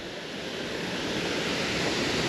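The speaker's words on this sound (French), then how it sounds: "je suis à la cascade" Steady, loud broadband roar of a mountain waterfall on a hike to the Hourquette, Campana and Gréziolles lakes near Artigues, continuous and close with no talk.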